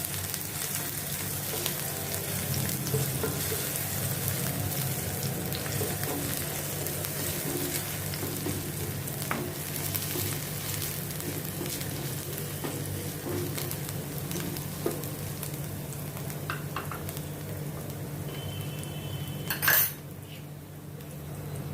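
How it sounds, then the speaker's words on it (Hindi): Chopped green chillies sautéing in hot oil, a steady close sizzle and frying crackle running throughout with occasional clinks of a utensil against the pan, no talking. "इसमें पहले मैं ये हरी ग्रीन चिल्ली कटी हुई डालती हूँ। इसको मैं थोड़ा सौते करती हूँ ऑयल में"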